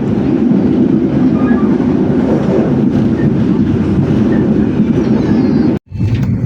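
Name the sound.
passenger train running on rails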